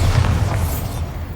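Bombarda spell blast in the Hogwarts Legacy video game, a deep, heavy boom that rolls on and fades through the clip, close and loud with no talk over it.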